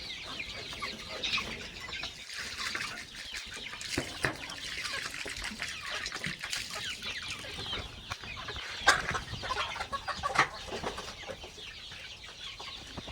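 Several free-range village chickens clucking and murmuring nearby, with occasional sharper calls over a soft background of trickling and rustling.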